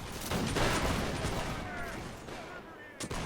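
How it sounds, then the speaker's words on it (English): Musket volley fire crackles through a video game battle between Whigs and Tories, a dense rolling fusillade with scattered reports fading over a few seconds. "They're not gonna go straight into the volley fire this time around."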